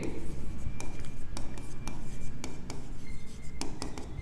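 A pen writes on paper with scratchy strokes and occasional sharp taps during an accounting exercise entering a deposited cheque into a cash book, close and steady, no speech.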